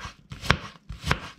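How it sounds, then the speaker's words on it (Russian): A knife dices an onion into cubes on a cutting board, two distinct rhythmic bursts of close, crisp slicing with sharp thuds on the board, quiet and without talk. "Репчатый лук нарезаем кубиком."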